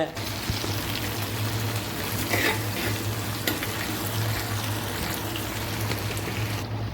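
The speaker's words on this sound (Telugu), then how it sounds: "1 చెంచాడు పోపిత్తులు, పచ్చిమిరపకాయలు, కల్జామాకు, ఉల్లిగడ్డలు దూరగా గోలించుకోవాలి" Mustard seeds, green chillies, curry leaves and onions fry in edible coconut oil, giving a steady close sizzle with crackle throughout, a low hum beneath and faint voices in the background.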